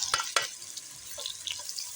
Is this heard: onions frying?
yes